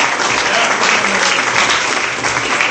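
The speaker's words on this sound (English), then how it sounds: "round of applause for yourselves." Crowd applause at a party in a restaurant venue, a dense, loud, continuous wash of clapping filling the whole moment without a break.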